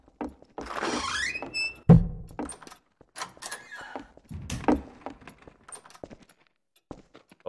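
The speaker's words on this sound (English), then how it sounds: "I don't like that creaking." A long, squealing creak slides downward in pitch inside a Garry's Mod horror map, likely a door swinging, and ends in a heavy thunk. Scattered knocks and soft clatter follow, fairly close, with no voices.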